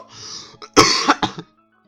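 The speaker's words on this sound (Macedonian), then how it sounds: "Значи нас некако ме фаќат кашлица." A person coughs several times in quick, harsh bursts after a brief rasping throat clear, close and loud, then goes quiet.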